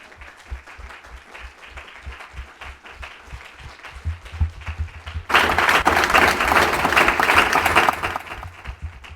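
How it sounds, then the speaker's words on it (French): Congregation applauding during a French-language church service, rhythmic clapping in time that swells into loud, sustained applause from the whole crowd. "Let's acclaim for him."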